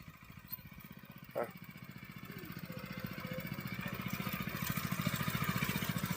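A small water-pump engine fitted to a mini tractor chugs with a steady rapid thumping rhythm, close and continuous, gradually growing louder; faint voices occasionally underneath.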